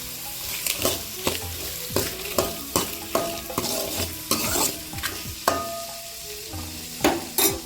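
Garlic and chillies frying in a pan for a broad beans thokku, steady sizzling broken by regular sharp scrapes of a spoon stirring, about one stroke every half second, loud and close.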